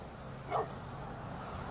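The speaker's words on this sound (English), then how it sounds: "letting his dog bark at me" A police K9 dog lets out a single short bark, faint and somewhat distant, over a steady low background hum with no talking.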